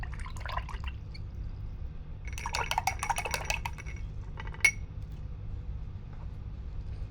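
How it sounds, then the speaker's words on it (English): Acrylic paint brush rinsed in a water jar, with quick clinking taps and splashy swishing in a short burst, then a single sharp tap against the glass, close and fairly quiet. "Okay, I'm going to wash my brush."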